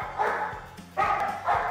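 A dog barks three times in close succession, loud and near, each bark a short harmonic yelp.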